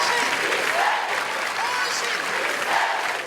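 Sustained applause from a crowd greeting the arrival of coffins at a funeral wake held at the city council hall in Rio, a dense, steady clapping throughout.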